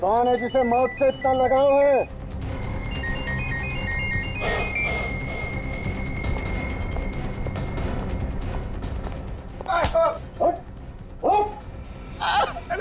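A phone ringtone chimes repeatedly, then people talk over it.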